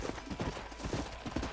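Horse hooves clip-clopping in the western game Red Dead Redemption, a brief run of fairly quick, even hoof beats at close range with nothing else over them.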